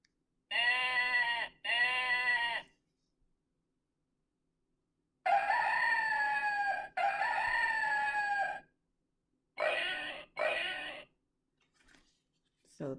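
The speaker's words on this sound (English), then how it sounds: "And this was A rooster." A rooster crows from a children's animal sound book, a series of loud, strident crowing calls in separate bursts with pauses between, fairly close and alone.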